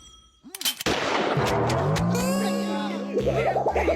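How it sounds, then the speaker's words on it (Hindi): A single cartoon gunshot is fired into the air in the Motu Patlu animation, a sharp loud crack followed by a ringing, whistling tail and playful sound effects. "हवा में फायर करो सर, फायर करो।"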